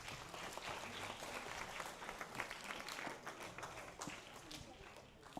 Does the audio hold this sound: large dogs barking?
no